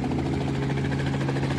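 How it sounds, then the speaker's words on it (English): A helicopter drones steadily at close range, a continuous low rotor and engine rumble with a rapid pulsing beat, heard alone without talk. "I can't believe I'm going on a tour on a helicopter."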